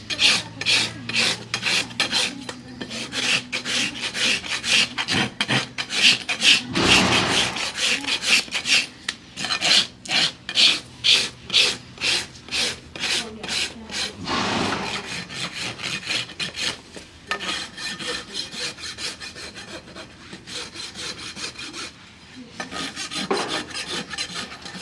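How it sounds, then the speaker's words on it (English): A farrier carves and rasps the hoof of an overdue horse during shoeing, giving long runs of steady, rhythmic scraping strokes that are close and loud, with short pauses and no talking. "Now I'm just kind of carving in a shape here, going by what the white line's telling me, and hoof wall thickness."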